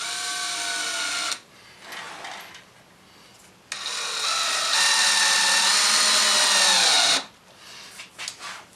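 A power drill drives small 1 1/4 inch number 6 screws into wood during a painted chair build, two long loud whirring runs separated by a quieter pause, close up.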